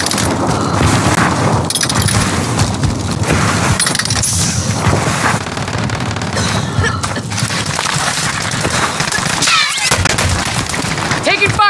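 Loud gunfire and booming blasts in the video game Call of Duty Warzone, shots and bursts layered over dense battle noise throughout, with voices talking over it.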